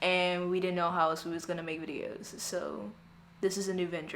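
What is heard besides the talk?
None of the usual background noises is heard.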